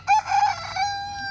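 A Silkie rooster crows once nearby, a loud, fairly short hoarse call that fades out over about a second.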